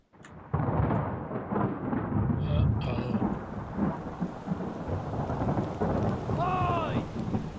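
Thunderstorm aboard a ship in Return of the Obra Dinn: steady heavy rain with low rumbling thunder throughout, loud and close, a few brief creaks and whistling tones over the downpour.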